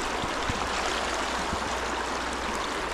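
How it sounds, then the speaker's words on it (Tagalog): A river in the Philippine countryside streams steadily along, a continuous broadband wash of flowing water with a few low gurgles, moderately close and without any voices. "Yung ilog na lalampasan natin."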